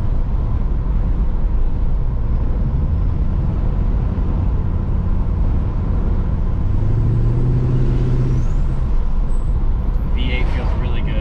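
A 1939 Chevrolet Master Deluxe Coupe with a V8 accelerates, giving a loud, continuous low engine rumble heard from inside the car, its tone climbing briefly partway through, with a voice talking over it.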